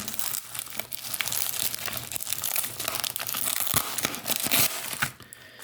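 Close, crinkly crackling and tearing of plastic bubble wrap being pulled open to unwrap coins, with irregular rustles and a few sharper crunches, no talking.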